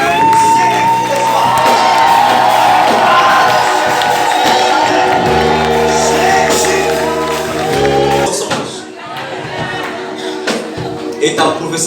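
A church congregation shouts, whoops and cheers loudly over a steady musical backing, the noise swelling and then briefly dropping near the end.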